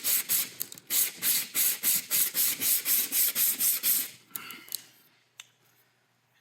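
A cured J-B Weld epoxy block is rubbed on fine-grit sandpaper in about fifteen regular, rhythmic scraping strokes, loud and close, before it stops and only a few faint knocks follow.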